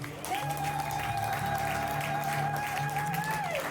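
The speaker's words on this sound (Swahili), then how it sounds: "Hebu ushangilie Bwana kwa makofi." A church congregation claps together during a sermon, a dense, continuous wave of applause lasting the whole moment, with a sustained musical tone held underneath.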